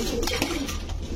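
A pigeon at a pigeon seller's gives a short, low throaty coo, brief and close against a steady background hum.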